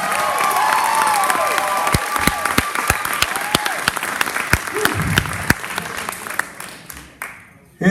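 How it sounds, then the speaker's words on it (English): Sustained audience applause fills the room at the Rock The Fox 2019 battle-of-the-bands awards, with dense, steady clapping and some cheering that fades toward the end. "And a big round of applause for all the bands this week."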